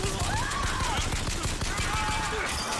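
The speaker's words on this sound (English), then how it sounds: "Who's shooting me?" Gunfire in the video game Bioshock Infinite, rapid overlapping shots and bursts of automatic fire alongside whooshing effects, loud and close, with someone talking over parts of it.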